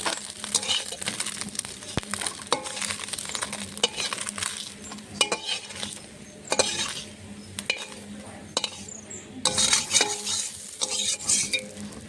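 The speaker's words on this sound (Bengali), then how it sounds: "বাকি মাছগুলো এভাবে ভেজে নেব" Small fish frying in oil in a pan for a Bengali chorchori, a steady close sizzle with frequent metal spatula stirs and pan clinks throughout, no talking.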